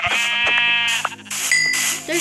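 Blocky sheep in a Minecraft game bleat in a few wavering, harmonic cries, close and fairly loud, against a steady low in-game tone.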